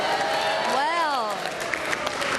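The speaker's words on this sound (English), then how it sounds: "my, what an angry crowd here" A Big Brother Australia studio crowd reacts loudly and angrily during a nomination, a dense sustained roar of voices and jeers with a host's voice rising and falling over it.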